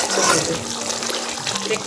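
Water pours steadily into a cooking pot of braised meat with a soft rushing splash, close and continuous, with a quiet voice faintly underneath.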